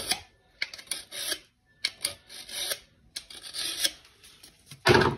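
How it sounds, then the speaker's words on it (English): A fillet knife is sharpened before filleting walleye, giving repeated short rasping strokes in quick uneven bursts, close and crisp, with a harsher scrape at the end. "Sharpen real quick."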